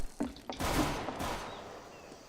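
Gunfire in Counter-Strike: Global Offensive, a few sharp shots followed by a sustained rattling volley that fades into reverberant tail, moderately loud and without speech.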